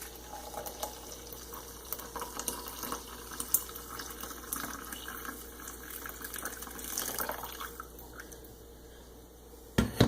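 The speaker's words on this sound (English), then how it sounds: "You can just pour it into your cup." French press coffee poured into a cup: a quiet, intermittent trickle and splash of liquid with small clinks, ending in a couple of sharp knocks.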